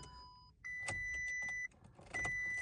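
A Volkswagen with stop/start and a dead battery fails to start: a chime beeps, then a dashboard tone sounds while a weak clicking, whirring noise stutters twice, fairly quiet.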